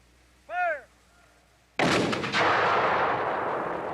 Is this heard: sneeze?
no